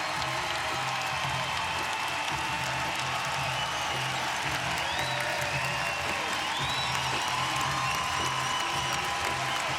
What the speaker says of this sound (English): as you hear the crowd react to Simone